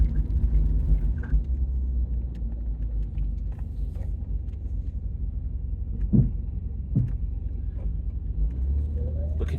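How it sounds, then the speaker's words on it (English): An Alfa Romeo drives along a road after a gearbox fluid change, giving a steady low engine and road rumble from inside the cabin with a couple of faint clunks and no speech. "So this is its first proper drive since we've changed the gearbox fluid"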